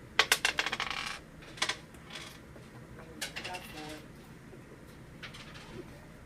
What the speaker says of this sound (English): Morrow, Cameron, Alexis, and Chris roll the dice one time